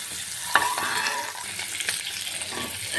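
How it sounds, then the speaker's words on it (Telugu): Eggs frying with turmeric and chili powder in hot oil, a steady close sizzle with stirring scrapes and a sharp clink near the start, no voices. "పసుపు వేసుకొని కొంచెం బ్రౌన్ కలర్ వచ్చే వరకు ఫ్రై చేసుకోవాలండి."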